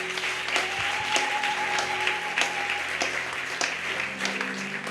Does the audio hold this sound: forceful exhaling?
no